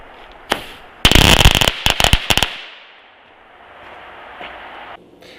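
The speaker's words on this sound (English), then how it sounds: "I'm gonna light one of those off so you can" A Black Cat Cracker Ball firework goes off: a single pop, then a loud, rapid burst of crackling bangs lasting about a second and a half, followed by a few scattered cracks and a fading hiss.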